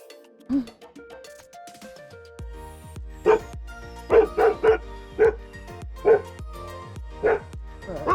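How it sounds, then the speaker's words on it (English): A dog barks repeatedly near a former dirt road in Riverside County, California, sharp barks and yips coming in bursts, several close together then spaced apart, loud and close with no talk over them. "Oh, the doggy."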